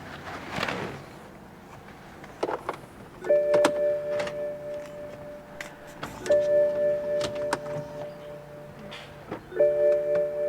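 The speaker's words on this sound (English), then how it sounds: "Let's power the car up, see if we've got any strange errors." A BMW N54-engined car powering up after its battery is reconnected: repeated electronic chimes in three evenly spaced rounds, with clicks and relay-like whirs in between, close and clear with no talk.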